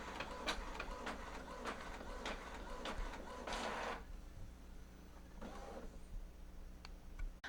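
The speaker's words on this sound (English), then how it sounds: "you're going to hear some cracking and stuff like that. But as long as it's feeding through, everything is perfectly fine" An inkjet printer feeds an envelope through, with repeated mechanical clicks and cracking, rhythmic whirring print-head passes and a couple of louder motor bursts, close and moderately quiet.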